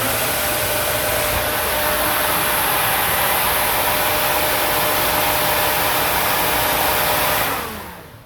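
A loud, steady whooshing roar from a transmission cooler fan runs continuously close by, then winds down at the end.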